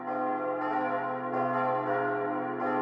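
Church bells ring continuously, several overlapping tones sustaining and swelling, loud and steady with fresh strikes every second or so.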